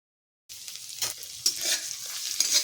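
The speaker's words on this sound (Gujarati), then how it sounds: "તો આદુ મરચાં લસણને આપણે અહીંયા ફ્રાય કરી લેવાનું છે" Garlic, ginger and green chillies sizzling and crackling in hot oil in a pan, a steady bright frying hiss with small pops and a few stirring scrapes, close and without talk after a brief silent start.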